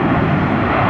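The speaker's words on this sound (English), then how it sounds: "Sun Air is on arrival on final" A Sun Air airliner on final approach to Tampa roars past nearby, a loud, steady broadband engine rumble filling the whole moment without voices.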